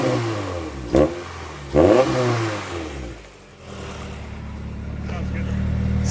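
A Honda Type R with headers at an Australian car auction revs twice in quick bursts, then settles into a steady, close idle hum.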